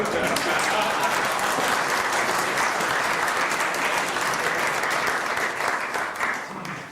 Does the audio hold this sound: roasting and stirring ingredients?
no